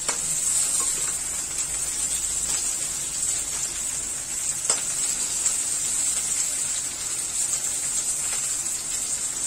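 Onions frying over high heat for bhindi do pyaza, a loud continuous sizzle with faint stirring clicks, steady throughout and close up.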